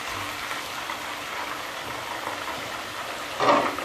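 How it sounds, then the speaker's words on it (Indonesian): Catfish fries in hot, dark oil previously used for tempeh, giving a steady, even hiss at moderate volume with a brief louder crackling surge near the end. "Apinya sudah panas, minyaknya sudah panas, kemudian lelenya siap untuk digoreng."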